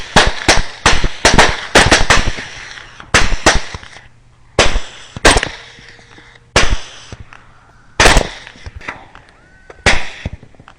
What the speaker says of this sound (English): Good shot. Good hit, Jeff.